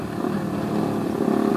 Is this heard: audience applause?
no